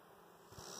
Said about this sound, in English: them bees act like they got a queen going in right there